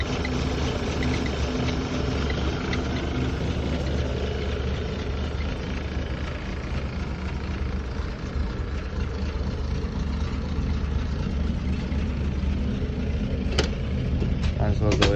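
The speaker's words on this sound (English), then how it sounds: "A little low idle because she's cold and I don't have the choke on, but runs very smooth." A Toyota FJ43 idles low and smooth just after a cold start with the choke off, a steady continuous rumble heard close up throughout, with a person talking over it.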